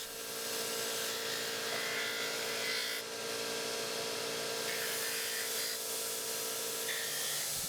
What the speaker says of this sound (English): Then they'll bring it over to the grinding wheel and get its final shape.